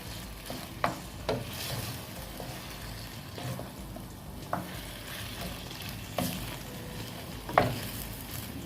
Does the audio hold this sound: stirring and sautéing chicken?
yes